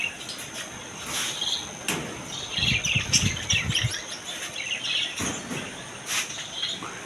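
Many budgerigars chirp and twitter continuously in a busy chorus at a bird and pigeon market, with brighter bursts of calls rising and falling throughout.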